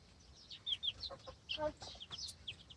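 Yeonsan Ogye chickens with young chicks give soft clucks and high peeping chirps, a scattered run of short, close but quiet calls.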